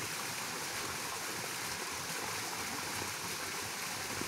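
Water in a hot spring pool at night gives a steady, faint rushing hiss like flowing or pouring water, even and unbroken throughout.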